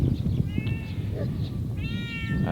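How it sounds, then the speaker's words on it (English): A free-roaming cat meows twice, short harmonic cries near the listener, with low background noise and some handling sounds around them. "But he is a free roaming cat, so it's not the same thing as a house cat."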